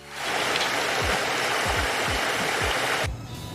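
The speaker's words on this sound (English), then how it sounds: "it's actually raining now" Steady rain pours down outdoors in a dense, loud hiss, with dull low thumps scattered through it, before suddenly dropping to a quieter patter near the end.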